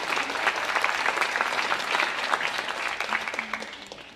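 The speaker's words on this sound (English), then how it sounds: "Round of applause." An audience applauds at an academic awards ceremony, steady moderate clapping from a crowd that continues evenly for about four seconds, with a faint voice beneath it.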